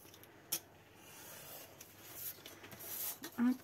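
Scissors snip through paper card for a double pop-up card, giving a few short crisp cuts and rustles near the end after a quiet stretch, close to the microphone, with someone speaking softly around them.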